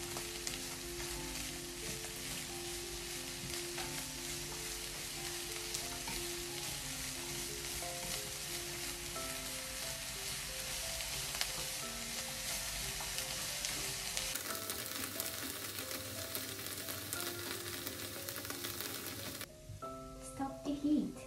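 Green pepper frying in a pan, a steady dense sizzle holding at even loudness throughout, with faint tonal background music running underneath and a brief clatter near the end.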